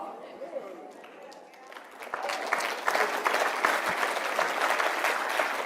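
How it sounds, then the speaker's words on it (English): An audience breaks into clapping that starts faintly, swells after a couple of seconds into dense sustained applause from a crowd, and continues steadily to the end. "even these guys are clapping like they know he's full of shit"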